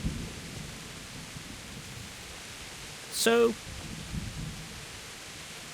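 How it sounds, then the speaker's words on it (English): Steady hiss of rain with a low rolling thunder rumble fills a medieval village scene in the video game Kingdom Come: Deliverance. A short bright chirp cuts through midway, and someone speaks briefly at the start. "the rain is blocking noises"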